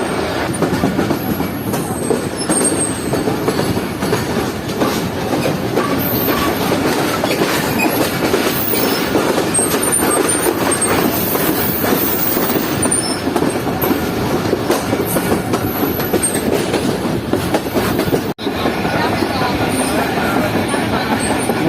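The Sir Syed Express passenger train, hauled by locomotive HGME 8207, pulls out of Faisalabad with a continuous loud rolling rumble and rhythmic clickety-clack of wheels on track, heard from inside the carriage.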